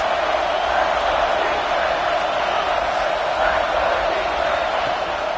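A stadium crowd roars in a college football video game during a big third down in the red zone, a steady dense wall of cheering that holds level throughout.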